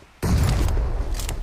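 A sudden loud boom bursts in after a brief quiet moment, followed by a dense rumbling roar that lingers, an explosion in PUBG Mobile.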